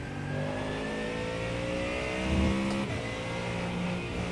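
A race car engine in the iRacing sim revs steadily and loudly throughout, with harmonic engine tones holding and swelling briefly near the middle, no talk over it.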